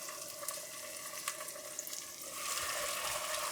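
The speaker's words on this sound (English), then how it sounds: "we cook this together till the tomato is nice and soft" Tomatoes cooking in a pan with garlic and ginger, a soft steady sizzle and bubbling, faint and close, with light scraping and a slight rise in hiss toward the end.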